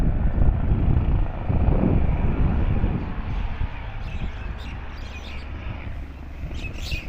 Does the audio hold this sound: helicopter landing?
yes